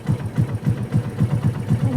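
Motorbike engine idling while parked, a steady low throbbing pulse repeating about every quarter second, close and fairly loud, with no talk over it.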